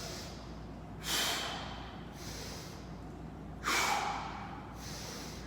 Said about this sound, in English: Inhale at the bottom, exhale as you drive up, inhale down, exhale up.